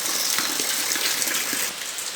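Heavy rain pours outside a house with water gushing and splashing, a steady dense hiss that is loud and continuous, with no voices.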